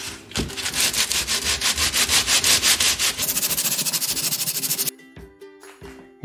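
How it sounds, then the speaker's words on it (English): Sandpaper of 60 grit worked by hand across a Corian countertop makes rapid, rhythmic back-and-forth scratching strokes, loud and close, first in longer passes and then in quicker short strokes before stopping. "It took about an hour of hand sanding."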